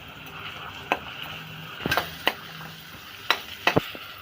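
Cumin and coriander seeds frying in a pan, stirred with a utensil that gives a few sharp scrapes and taps over a soft, steady sizzle, close up and fairly quiet, with no voices.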